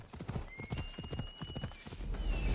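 Horse hooves clip-clop steadily over ground in Assassin's Creed Odyssey, a quick run of rhythmic hoofbeats at close range, with game ambience and a faint tonal whistle behind them.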